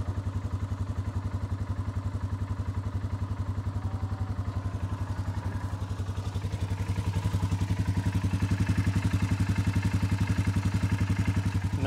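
A Polaris Sportsman 570 ATV engine runs steadily just after starting, a close, even thumping idle that rises slightly in intensity midway, with no talking.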